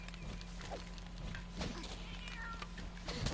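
A cat meows several times in the Monster Hunter video game, short calls over a steady hum of game background noise, with no talking.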